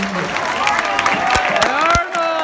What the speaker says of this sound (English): give a round of applause to Governor Arnold Schwarzenegger